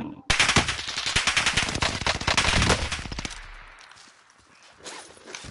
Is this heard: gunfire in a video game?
yes